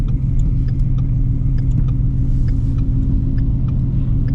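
A Shelby GT350 tuned to 800 horsepower rumbles with a deep, steady low drone, heard from close by as it drives on a wet road, with no talking.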